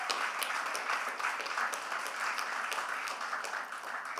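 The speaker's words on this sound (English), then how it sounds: "Can we give a round of applause for the black fathers that made impact in this room" An audience at a youth huddle applauds black fathers, a steady, fairly soft patter of many hands clapping throughout, somewhat distant.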